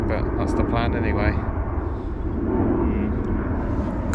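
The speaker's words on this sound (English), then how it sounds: "Kind of wish I was on this plane going on holiday" An airplane passes overhead above an outdoor fishing spot, a loud steady engine roar lasting throughout, with brief voice-like sounds near the start.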